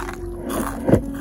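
A single crisp bite into a fried Indonesian corn fritter (bakwan jagung), one short crunchy burst close to the mic after a moment of quiet.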